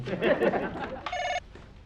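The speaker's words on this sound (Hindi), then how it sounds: "अच्छा फोन है, मैं समझा सलमा है।" A short electronic telephone ring sounds briefly after a moment of speech, with a faint voice continuing around it.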